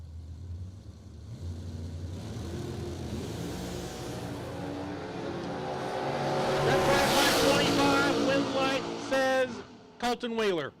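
A pair of drag racing trucks roars at a racetrack, engine noise building to a loud surge of revving and acceleration before cutting off abruptly near the end, with an announcer talking over it throughout.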